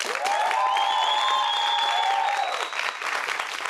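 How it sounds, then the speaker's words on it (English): An audience at a One Day Leader event gives a round of steady, moderately loud clapping, with a long, sliding high whoop or whistle riding over it before the applause continues and starts to thin. "Let's give a round of applause."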